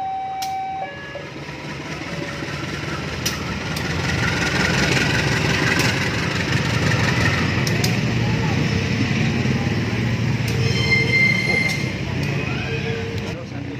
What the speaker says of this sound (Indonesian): Oke, sudah mundur ke jalur 1 dan nantinya lokomotif ini akan dilangsir ke jalur 3